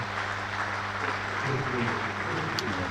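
Crowd applause at a one-day cricket match between Hampshire and Lancashire, greeting a batsman's fifty with steady, sustained clapping across the ground, fairly even and moderately distant throughout.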